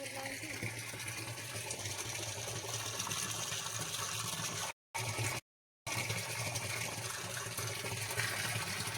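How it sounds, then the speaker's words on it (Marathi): Water pours down from a storage tank on a farm, a constant rushing gush at low level, briefly cut to silence twice midway before resuming unchanged. "टाक्यातून आपलं पाणी खाली चाललेलं आहे"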